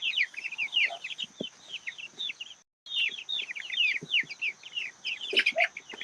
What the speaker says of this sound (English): Are those chickens? Yes, they're chickens.